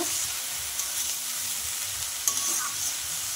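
Water spinach (kalmi greens) with fried onion frying in a wok with a continuous sizzle, broken by a few scraping stirs from a spatula, close by and fairly even.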